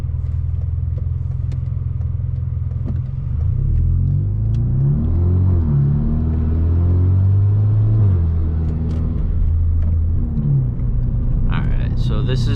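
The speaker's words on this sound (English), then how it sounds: "the car is like straight piped, resonator delete, muffler delete. Yeah, and it's pretty loud" A 2017 Hyundai Veloster Turbo with a dual-clutch transmission and straight-piped exhaust, resonator and muffler deleted, cruising along with a loud, steady low droning rumble that swells and eases, under continuous talk from inside the car.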